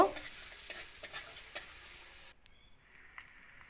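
Onion and crushed garlic sizzle and crackle in hot oil while a spoon stirs and scrapes the pan. The frying then drops to a softer, quieter hiss.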